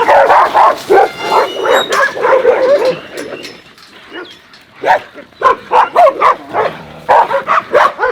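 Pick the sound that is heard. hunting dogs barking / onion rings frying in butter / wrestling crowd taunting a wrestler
hunting dogs barking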